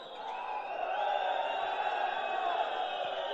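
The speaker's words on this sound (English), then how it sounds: "Some whistles from the crowd" Handball crowd at a Champions League match between Eurofarm Pelister and Fredericia, a dense sustained arena roar with shrill whistling tones riding steadily over it.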